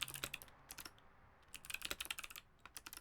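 Rapid clicky typing on a mechanical keyboard with a white Kailh Box V2 clicky switches and 5 mm plate, close and crisp, coming in bursts with short pauses.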